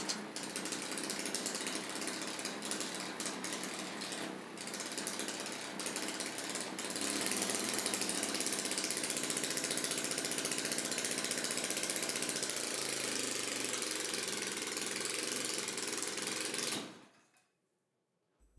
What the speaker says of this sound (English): For the first time, we finally hear some life out of this engine